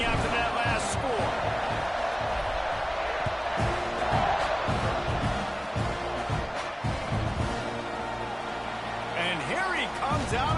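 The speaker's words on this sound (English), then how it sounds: "this crowd is buzzing after that last score" Stadium crowd buzzing in the College Football 26 video game, a dense continuous roar with scattered thumps and cheers beneath steady commentary talk.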